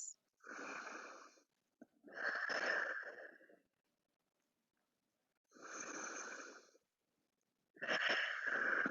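Slow, deep breaths in and out during a child's pose stretch in a low-impact flexibility workout, four long airy exhales and inhales separated by quiet pauses, close and fairly soft.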